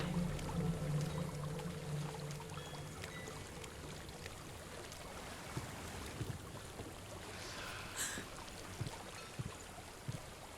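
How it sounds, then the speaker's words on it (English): Waterfall in the video game Hellblade: Senua's Sacrifice, a continuous broadband rush of falling water that stays steady and fairly loud, with scattered small splashes and a brief brighter burst near the end. "There's a waterfall."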